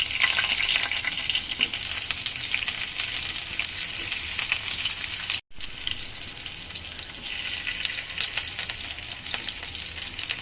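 Keema-filled mini chamucha snacks fry in hot oil, a loud, dense, continuous sizzle that cuts out for a moment midway and then carries on at the same level.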